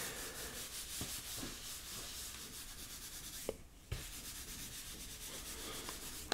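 Comic book being rubbed with a magic eraser sponge, steady close scrubbing strokes in a soft repeating rhythm with a brief pause midway, quiet and without talk.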